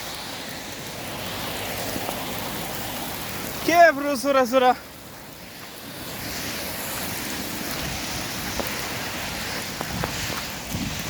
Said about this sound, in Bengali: এটা হলো আলবাহা শহরে পরিমাণে বৃষ্টি